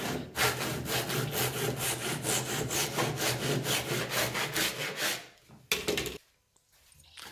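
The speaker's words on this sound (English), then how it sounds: "I use a straight scrap piece of wood and a Japanese pull saw to cut it" A Japanese pull saw cuts off the excess of a kumiko wood grid with rapid, rhythmic rasping strokes for about five seconds, then stops with a final few scrapes and a tap.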